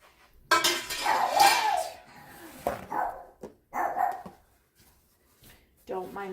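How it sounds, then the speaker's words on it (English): A guard dog barks in a kitchen during cherry canning, several short sharp barks under and between talking, mixed with clinking jars and utensils. "Don't mind the guard dog."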